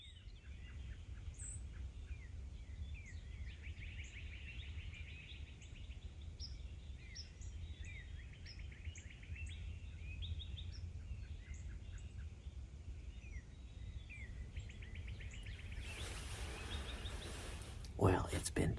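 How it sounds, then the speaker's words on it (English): Birds sing at dawn around a hunting stand in Texas, many small chirps and calls at a moderate distance over a quiet hum, with a short louder rustle near the end. "Sitting in the stand here listening to all the birds."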